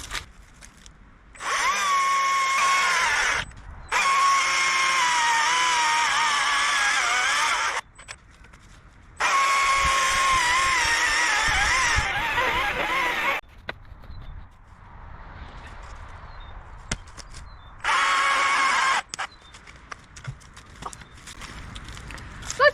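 A small chainsaw whines in several long bursts, revving high and cutting through a decent-sized tree, separated by quiet pauses with rustling and a few knocks.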